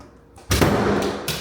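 An office interior door closing in a single solid thud with a broad rush of noise after it, heard close and alone with no talking.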